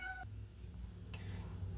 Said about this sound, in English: I do slightly apologize if you hear meowing in the background.